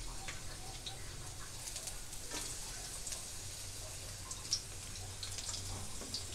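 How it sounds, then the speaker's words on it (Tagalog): Chopped garlic fries in a little oil in a pan, a soft, even crackling sizzle that holds steady throughout with one faint tick. "Lagyan natin ng kaunting oil. Lagay natin yung ating bawang."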